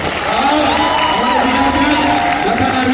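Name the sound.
crowd applauding and cheering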